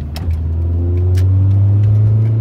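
A 2000 fifth-generation car's exhaust, fitted with a Magnaflow muffler replacing the stock one, accelerates with a loud, close, deepening engine rumble whose tone climbs steadily as it pulls.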